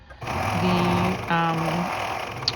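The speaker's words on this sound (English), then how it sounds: "here I am just serging up the edges of the, I guess that's the sleeves I'm working on right there" A serger overlocks the raw edges of hoodie sleeves, running in two close, steady whirring bursts with a short pause between them.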